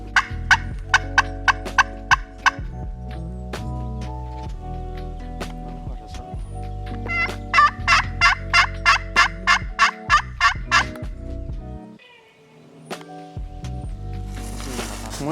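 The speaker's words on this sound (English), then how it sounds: "He has birds gobbling." Wild eastern turkeys gobble in the Kentucky woods during a spring hunt, a series of sharp, rapid rattling gobbles repeating at moderate distance, loud and clear against a quiet background.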